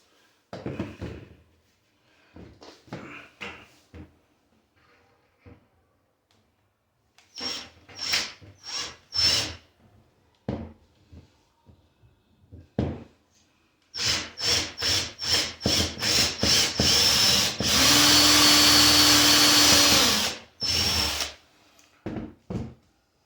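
Power drill countersinking screws into wood, short whirring bursts scattered across the first half, then a run of rapid close pulses ending in a longer sustained high drilling whine before stopping.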